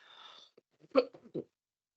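A person in a council meeting coughs a few times in short, harsh bursts close to the microphone, after a soft breathy rustle, with quiet in between.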